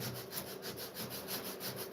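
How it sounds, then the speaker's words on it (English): Steady back-and-forth sanding on a fiberglass door repair, an even rasping scrape repeating in a continuous rhythm, close and fairly loud with no voices. "look how much sanding and work goes in just to a repair"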